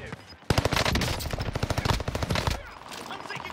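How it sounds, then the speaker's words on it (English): Video game gunfire: a loud, rapid automatic burst with evenly spaced shots lasting about two seconds, followed by quieter game ambience. "I'm taking fire."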